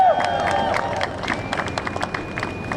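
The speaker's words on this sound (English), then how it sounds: "All right, another round of applause." Scattered clapping from an outdoor crowd at an environmental rally in Foley Square, Manhattan, patters along with crowd murmur and a voice speaking over it.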